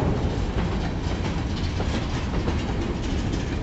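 A long Kiamichi Railroad train rumbles past steadily in Idabel, Oklahoma, with a loud, continuous roar and faint rhythmic clatter of wheels on the rails.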